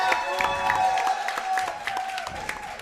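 A sold-out crowd applauding in Oklahoma: steady clapping and crowd noise, with a sustained tone running over it.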